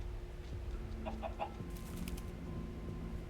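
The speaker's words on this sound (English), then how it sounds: "It's a royal chicken." A chicken in the Minecraft Story Mode video game clucks in a few short, soft bursts over a steady low in-game background hum, with no talking.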